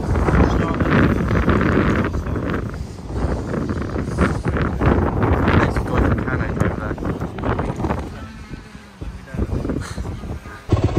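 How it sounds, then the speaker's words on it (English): Strong wind batters the microphone at a motocross track, gusting loudly and steadily throughout with rising and falling surges. "I'm having to record in here at the minute because it's so windy and I'm freezing"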